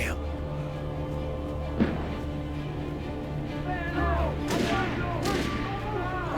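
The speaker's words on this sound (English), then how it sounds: "Oh, you know, they're shooting at me." Gunfire in the video game Alan Wake Remastered, several sharp shots cracking at irregular intervals over a steady low game ambience, with sparse reports near the middle and a denser burst toward the end.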